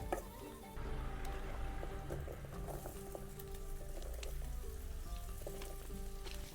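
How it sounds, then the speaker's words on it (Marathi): Red chili powder, turmeric and homemade masala fry in a pan with salt, a continuous close sizzle with crackles and occasional stirring clinks. "मसाला चांगला परतून घ्यायचा."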